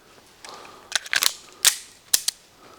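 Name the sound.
rapid gunshots at targets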